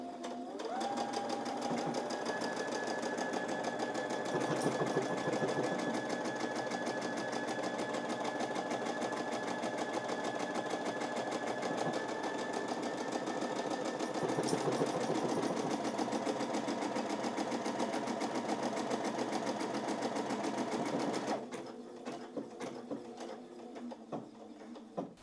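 A sewing machine stitches an automatic buttonhole in one steady, close, continuous mechanical hum with rapid needle patter, running nearly without pause before stopping abruptly near the end, leaving quieter handling sounds.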